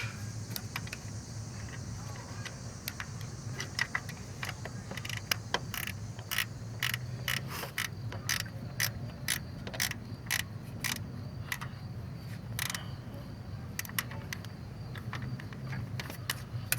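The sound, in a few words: ratchet wrench on Nissan Maxima engine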